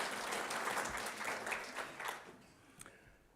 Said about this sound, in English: Can we give them a round of applause as well?